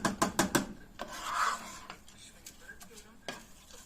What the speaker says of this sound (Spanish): Vamos a revolver muy bien